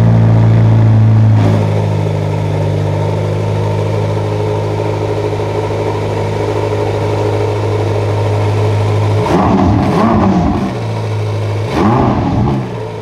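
A 1955 Ferrari Europa GT engine runs loud and close, first settling from a rumbling start into a steady idle, then snapping through two sharp revving bursts near the end.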